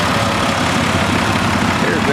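A 1970 International 1456 gold demo tractor with an XL cab runs at a show, its engine a steady loud low rumble that fills the whole short stretch.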